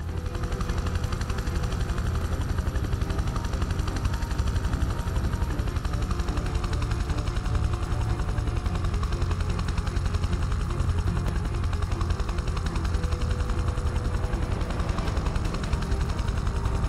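A steady, dense helicopter rotor drone from the game Prototype 2 holds unbroken and close throughout, with faint rattling gunfire-like thumps underneath as the aircraft comes in to land on a helipad.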